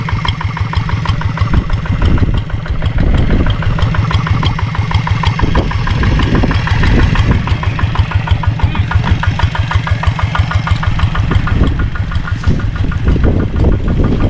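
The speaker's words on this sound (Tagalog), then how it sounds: "Ayan, naka-minor lang yung makina oh." Fishing boat engine idling at low throttle out at sea, a loud, steady rapid knocking chug with an even rhythm running throughout, close by, with no clear voices over it.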